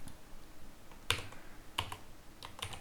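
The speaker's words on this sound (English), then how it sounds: "in the Run Dialog box type CMD and press enter" Several quick keystrokes on a computer keyboard, typing a short command into the Windows Run box, then a final key press, crisp and close in a quiet room.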